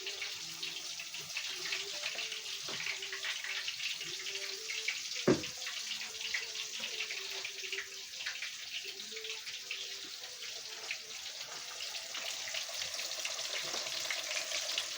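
Catfish deep frying in a pot of hot grease during home cooking, a steady, dense sizzle and crackle that runs unbroken throughout, close and moderately loud, with no talking.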